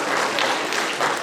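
An audience at a ceremony distributing appointment letters to newly hired city managers claps steadily, a dense wash of hand claps with no pauses.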